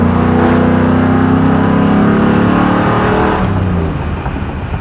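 A 1955 Buick Roadmaster fitted with a modern crate motor accelerates hard, its engine roaring loud and close with a deep, steady growl that holds for several seconds before easing off near the end.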